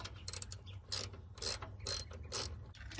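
Ratchet loosening 11 millimeter bolts on an old Toro Wheel Horse lawn mower, giving four or five short bursts of quick metallic clicking at close range, separated by brief pauses.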